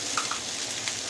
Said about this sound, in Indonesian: kita masukkan kacang mete yang tadi udah digoreng ya teman-teman